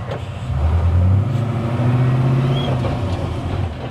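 A 1967 FJ40 off-road truck on 37-inch tires drives with a steady, rumbling engine drone, low and continuous with a faint rattle, no voices.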